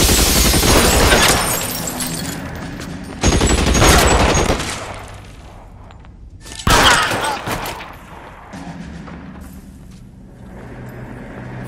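Heavy gunfire rips through an L.A. Noire shootout, long bursts of rapid automatic fire and breaking glass at close range, pausing briefly between loud volleys.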